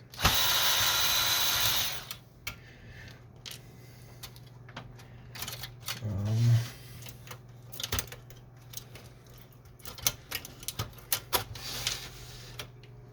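A screwdriver backing screws out of an Epson Workforce 633 printer during disassembly: a loud buzzing burst at the start, then scattered close clicks, ticks and a short squeaky turn, with quiet gaps and no talking.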